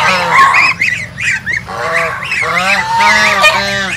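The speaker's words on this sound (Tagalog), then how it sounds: "simula natipisa ang mga itlog ng gansa" Geese on a rural Philippine farm give loud, close, repeated nasal honks, several birds calling in overlapping bursts that run nearly without pause.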